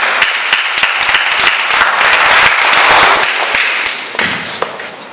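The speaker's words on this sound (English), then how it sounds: "Please give her a round of applause." A loud round of audience applause for Ms. Patti Goldfarb at a partners meeting, close and dense clapping with sharp individual claps standing out, tapering off near the end.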